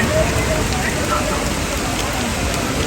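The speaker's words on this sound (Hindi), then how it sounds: "ऊपर से बारिश शुरू हो गई है" Rain falling at a waterfall in Pakistan, a loud, dense and continuous hiss of water with no break for the whole stretch.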